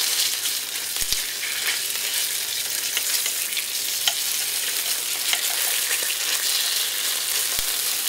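Tomato paste fries on high heat in an open pan, giving a loud, continuous sizzle with a few brief clicks of stirring; no voices.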